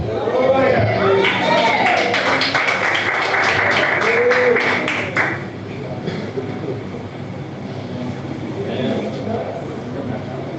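A burst of church congregation applause during a Pentecostal service, rapid dense clapping for about five seconds mixed with voices, then fading into murmuring talk.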